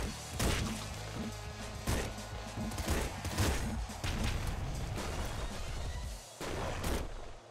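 Weapons fire in the video game Nuclear Throne: repeated punchy blasts and crashing impacts in irregular bursts over a steady game soundtrack, with no talking.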